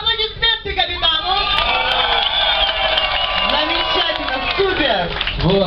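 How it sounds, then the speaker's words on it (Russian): A lively crowd on the upper deck of the yacht Viking in Alanya, Turkey, claps and cheers for the captain, with whoops and shouting voices mixed into steady, loud applause throughout. "Аплодисменти капітану!"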